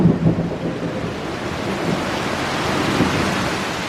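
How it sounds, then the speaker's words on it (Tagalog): Heavy afternoon rain pours down in a garden during a thunderstorm, a loud steady roar with low thunder rumbling underneath throughout, close and continuous until it cuts off abruptly. "Ang lakas ng ulan."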